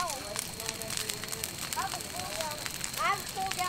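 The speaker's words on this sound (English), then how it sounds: "we decided to build a little fire to keep us warm" Small campfire built to keep warm on a winter night in Texas, crackling and popping steadily with sharp snaps, while people talk nearby.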